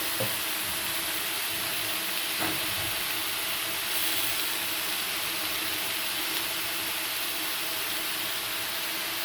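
Mixed vegetable curry with salt and turmeric fries steadily in a pan, giving an even, continuous sizzle and hiss with a couple of faint knocks, no voices.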